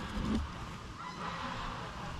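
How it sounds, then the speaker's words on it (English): Geese honking along the Grand River near a dam, a brief louder burst of calls at the start fading into a soft, steady wash of distant honking and outdoor noise. "Holy crap, it sounds like a goose fight."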